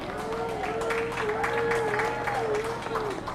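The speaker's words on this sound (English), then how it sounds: "Give them a big round of applause." A crowd applauds along the route of an Early American Days parade in Killbuck, a dense, steady clatter of clapping mixed with a sustained tone and voices around it.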